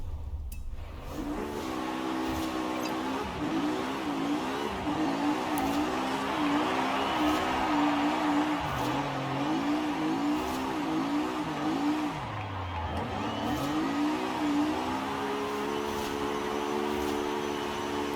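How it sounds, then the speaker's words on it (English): A small car's engine in Forza Horizon hums and revs steadily while drifting, its pitch rising and falling in waves, with a whiny mechanical drone throughout. "That is the sound that I wanted out of this thing."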